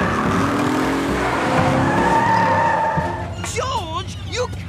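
A cartoon car spinning donuts in the jungle gives off a loud, continuous engine roar and squealing, skidding tires. A character's voice breaks in near the end over the skid.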